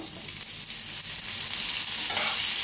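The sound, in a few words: dry roasting ginger and tomato in pan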